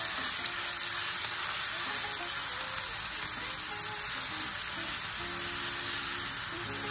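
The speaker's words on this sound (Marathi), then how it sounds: "त्याच्यानंतर ओल्या मिरचीची पेस्ट. हे बेताचं परतून घ्यायचं आहे आपल्याला." Green chili and garlic paste sautéing in oil, a steady soft sizzle lasting throughout with faint stirring, close and even, no talking.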